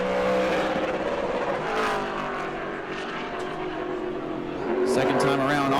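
A race car roars past during qualifying at New Smyrna, its engine note rising and sweeping by with a second car following near the end, all under a track announcer's commentary.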